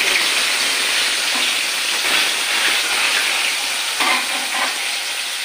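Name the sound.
chicken pieces frying in hot oil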